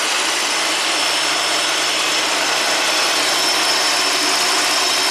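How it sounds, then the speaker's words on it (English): A steady, loud whirring rush of a 1985 Oldsmobile's radiator fan spinning close by, constant and unbroken with a faint high whine on top. "So the radiator fan is spinning just fine."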